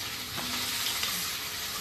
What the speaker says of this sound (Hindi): मैं आलू फ्राई कर रही हूँ